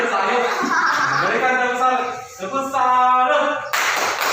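Children chant together while clapping the rhythmic 'tepuk salut' in a classroom; the voices dominate, and a burst of many hands rings out at the close.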